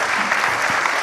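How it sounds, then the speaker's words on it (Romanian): An audience at a Romanian-language lecture on adolescence, marriage and family gives a brief burst of dense, steady applause filling the whole moment. "Să-l aplaudăm și pentru aceasta."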